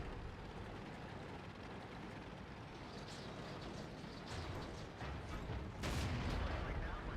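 A Centurion I tank fires its main gun in World of Tanks on the Pearl River map. A single heavy blast booms late, over a rumbling background of engine and battle noise.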